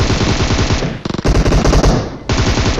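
Rapid machine gun fire in a battle royale video game, loud and close, with dense bursts of shots, a brief choppy stutter midway, then renewed sustained firing.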